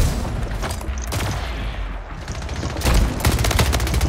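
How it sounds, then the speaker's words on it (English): Rapid SMG fire in the shooter Splitgate rattles out in dense bursts, loud and close, with a brief lull in the middle before another heavy burst. "He's spamming SMG."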